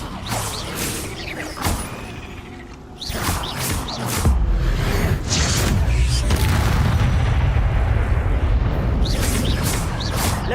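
A cast of the Incendio fire spell in Hogwarts Legacy erupts as a deep, whooshing boom that builds into a sustained roaring blaze, preceded by scattered sharper magical bursts.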